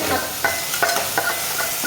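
A paneer mixture is stir-fried in oil, giving a steady close sizzle. A spoon scrapes and stirs in a regular rhythm, making soft repeated swishes over the frying.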